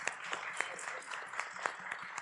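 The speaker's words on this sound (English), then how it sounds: "Everybody give yourself a round of applause." A small audience at a live show applauds briefly, with scattered individual claps standing out over a faint, sparse patter at low level.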